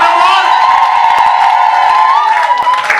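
A church congregation at a Sunday service ululates, a loud, sustained high trilling from many voices that holds steady, with crowd cheering mixed in.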